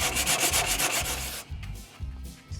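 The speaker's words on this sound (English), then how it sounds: "Let's try some sandpaper on there." Sandpaper rubs across the surface of an old car in rhythmic back-and-forth strokes, loud and close at first, then shorter, sparser scrapes, with no voices.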